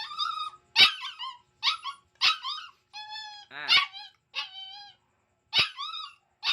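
An impatient dog barks and whimpers for food in a string of short, sharp yelps and high whining cries separated by brief pauses, close and clear.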